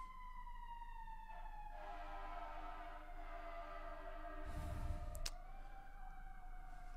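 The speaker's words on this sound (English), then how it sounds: "there's sirens all the time" A wailing siren sweeps up and down in pitch, heard from outside at moderate distance, with a brief rumbling thump near the end and no talking.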